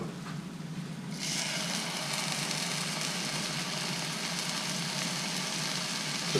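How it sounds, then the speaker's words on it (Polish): Steak dropped into a hot frying pan bursts into a loud, steady sizzle after about a second of quiet hum and keeps crackling evenly, heard close with no talking. "Patelnia już nam rozgrzała, więc wrzucamy nasze mięso."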